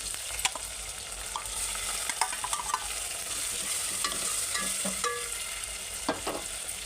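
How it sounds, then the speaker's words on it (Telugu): Tomatoes fry in a pan for a mutton gravy with a steady, close sizzle, broken by scattered stirring scrapes and clinks of a spoon against the pan, and no voices. "ఇవైతే మంచిగా వేగాలి టమాటాలు"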